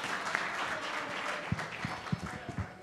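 An outdoor audience at a village games event applauds, a broad wash of many hands clapping at moderate distance, with a few louder individual claps and thumps near the end.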